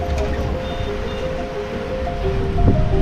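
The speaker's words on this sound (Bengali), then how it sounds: "জলগুলো এসে আছাড় খাচ্ছে যেভাবে, দেখবার মতো" Sea waves at Tajpur beach wash and crash in a continuous rolling roar, with wind buffeting close by and a slightly louder surge near the end.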